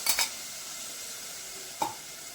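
Chicken with tomato and lemon simmers in a pan with a soft, steady sizzle, broken by two brief clinks of a spoon or lid against the pan, near and fairly quiet.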